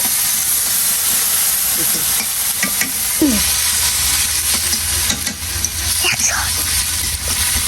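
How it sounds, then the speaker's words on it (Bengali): Potatoes fry in hot oil in a pan, a loud, close, continuous sizzle with scraping stirring sounds and occasional clinks, alone with no talking. "এবার হচ্ছে আমি আলুগুলোকে ভেজে নেবো।"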